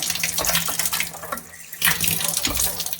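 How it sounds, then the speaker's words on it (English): Water gushes steadily from a Triton electric shower after a fault repair, a close, continuous hissing spray with slight fluctuations in force. "there's plenty of water coming out"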